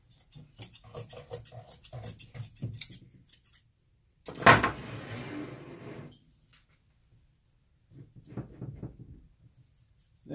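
Repeated snipping and cutting of upholstery fabric for a chair seat, close by, with a brief sharp rustle midway and a short pause before more cutting resumes.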